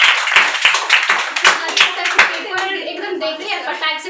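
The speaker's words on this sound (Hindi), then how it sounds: "ताली बजाइए इनके लिए" Students in a classroom clap for a classmate, a quick burst of close, sharp handclaps that fades into scattered claps while people talk over it.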